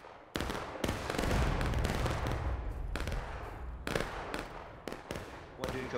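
A volley of muskets fires in the War of Rights video game, a ragged burst of loud overlapping shots rolling into echoing crackle, followed by scattered single reports spaced over several seconds.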